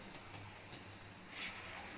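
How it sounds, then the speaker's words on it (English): Model train running on a home layout, pulling a small freight train of wagons; a faint, steady rolling rumble with light clicking persists throughout the clip, with a brief brighter hiss near the middle. "So Dan's pulling a small freight train"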